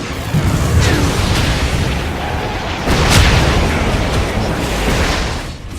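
Booming explosions and attack rumbles from towers under siege in a Dota 2 match, Newbee versus TNC at ESL One Genting 2018, rolling continuously with louder bursts around the middle.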